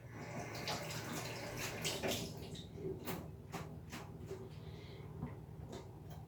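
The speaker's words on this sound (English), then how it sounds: "Then the tomato, I'm just going to give them a quick wash." Fresh tomatoes rinsed under a running tap in a home kitchen, where a steady stream of water splashes and patters continuously with small knocks of fruit and hands, fairly close and with no talking.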